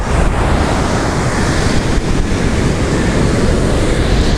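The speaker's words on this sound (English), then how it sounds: "See those waves out there? They'll just bubble away." Ocean waves surge and fizz continuously at Muriwai surf beach in New Zealand, a loud, dense wash of broken water with wind buffeting the microphone throughout.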